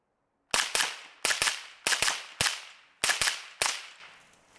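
A Tommybuilt T7 rifle fires through a ten-round magazine in sharp, close shots, loosely grouped in pairs and singles, each cracking loudly and trailing off in a short echo.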